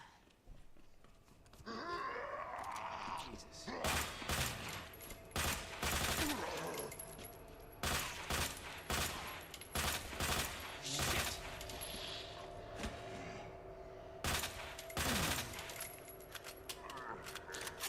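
Gunfire in the Resident Evil 2 remake (2019), Leon's scenario in the sewers: rapid bursts of loud shots repeating over many seconds with dense crackling impacts and game sounds between volleys.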